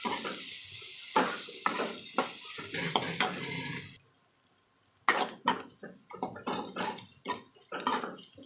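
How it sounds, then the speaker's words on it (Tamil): Onions sautéing toward translucence in a pan for brinjal curry, sizzling up close under brisk, rhythmic stirring and scraping, with a short quiet pause midway before the stirring resumes. "வெங்காயம் நல்லா கண்ணாடி மாதிரி வதங்கட்டும்."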